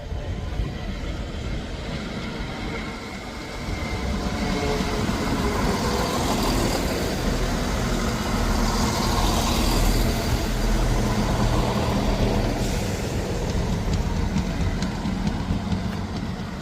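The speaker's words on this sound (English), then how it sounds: "Arriving in now is the 1223 ScotRail service from Leaving to Edinburgh Waverley." A ScotRail service pulls in at Edinburgh Gateway station with a sustained, broad rumble of engine and rail noise that swells slightly midway and stays loud throughout, without voices.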